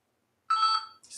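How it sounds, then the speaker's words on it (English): A phone rings once with an incoming call, a short electronic ringtone burst that cuts off, followed by the start of another tone, heard alone and fairly close. "Got a phone call from Nigeria, man."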